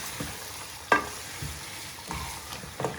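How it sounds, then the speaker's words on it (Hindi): Fish pieces frying in masala in a pan, with a low steady sizzle and a few sharp stirring scrapes and clinks of a utensil spaced through the clip. "फिश हमने ऐड कर दी है और 5 मिनट तक हम इसकी भुनाई करनी है।"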